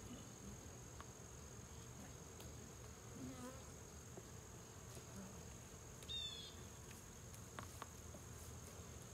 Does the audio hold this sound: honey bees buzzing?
yes